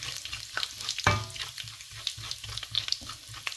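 Cumin seeds frying in hot oil, a close crackling sizzle with small pops and scraping stirs, and one sharp clatter early on.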